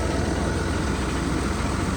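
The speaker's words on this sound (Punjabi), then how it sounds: "ਲੋ ਜੀ ਆਪਣਾ ਟਰੈਕਟਰ ਵੀ ਆ ਗਿਆ" A tractor engine idles steadily and loudly up close, a dense low rumble with constant vibration and no break across the short stretch.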